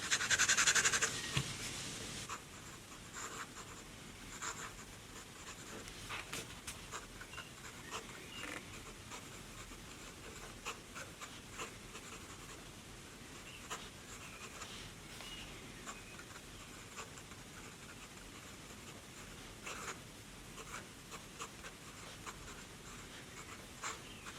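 An Esterbrook extra fine fountain pen nib scratches softly across Paperblanks notepad paper, a faint, steady rasping of writing strokes with small ticks, close and quiet after a brief louder opening.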